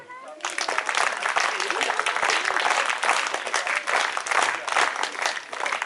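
An audience at a school annual function claps in welcome, giving dense, loud, sustained applause from a large crowd with voices mixed in.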